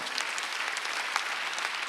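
A congregation applauding during a Sunday church worship service, dense steady clapping that holds at an even level from start to finish.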